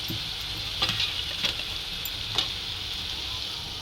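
Masala and ingredients sizzling in hot oil in a pan while cooking a dried-fish curry, a steady hiss with a few stirring clicks and scrapes, close and unbroken, with no voices.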